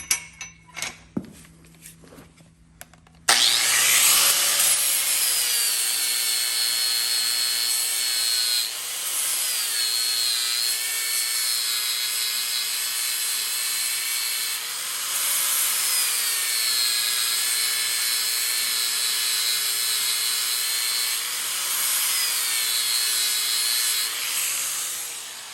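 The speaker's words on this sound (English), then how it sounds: "there's a bridge area between the first 2 nail holes that we can weaken with a grinder" An angle grinder thins the steel web of a rigid horseshoe at the bridge between the first two nail holes. After a few faint clicks, it runs as a loud, steady, high whine for over twenty seconds, with slight changes in pitch as it cuts.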